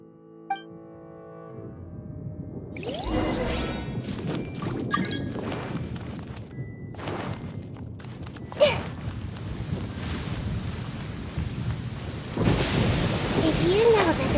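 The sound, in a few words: thunderstorm with rain in a video game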